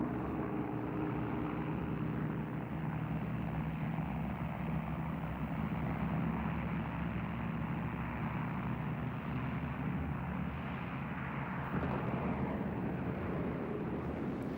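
Avro Lancaster RAF bomber engines drone in a steady, loud, unbroken roar that holds level throughout, with no voices.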